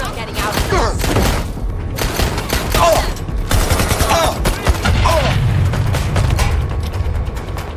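Rapid gunfire and booming shots from the video game Watch Dogs Legion, loud bursts of automatic fire and thuds repeating throughout, with game voices talking in between.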